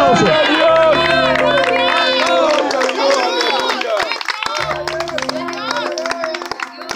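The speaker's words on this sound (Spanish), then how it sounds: "fuerte, fuerte, fuerte el aplauso" A church congregation claps loudly during an evangelical service, with sharp distinct claps over a sustained organ or keyboard chord, crowd voices and cheering mixed in, the music dropping out midway while clapping continues.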